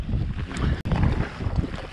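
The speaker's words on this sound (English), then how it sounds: "I think the wind's calming down." Wind blowing steadily over a lake on a cold canoe route, a loud broadband rush and buffet against the microphone with no voices.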